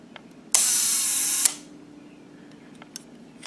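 A film camera's shutter is tripped manually from the side with the aperture wide open, giving one loud, close mechanical burst that lasts about a second before cutting off to near quiet.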